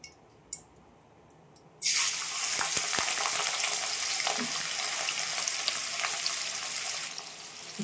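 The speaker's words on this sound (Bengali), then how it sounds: "এবার পেঁয়াজগুলো ছেড়ে দেবো।" Onions dropped into hot oil in a wok (kadai) for mutton biryani hiss into a loud, steady sizzle that starts suddenly and keeps crackling close by, with no talking.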